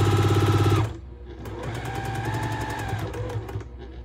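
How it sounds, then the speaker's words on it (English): A sewing machine stitches vintage kite foundation paper at a quarter-inch seam, running in a steady close whir that stops briefly after a loud first burst and then resumes with rapid needle ticks, with no talking. "And I'm stitching at 1/4 inch."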